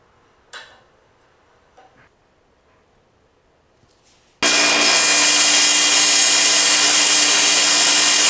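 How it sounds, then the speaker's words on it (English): A couple of faint clicks and taps in a quiet shop, then a power grinder starts abruptly and whines loud and steady as it grinds down a stud on a hydraulic steering ram. "Alright, so we got that stud ground down."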